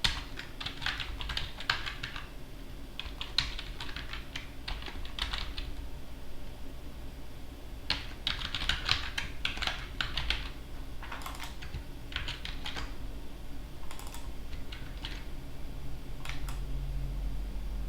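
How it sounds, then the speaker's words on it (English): Keys clatter on a computer keyboard in quick bursts separated by short pauses, quiet and close against a low room hum. "Let me type it somewhere else so I get it right."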